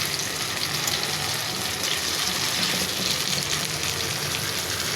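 Eggplant slices coated in gram flour fry in hot oil, giving a steady, dense sizzle that stays at an even, fairly loud level throughout with no voices.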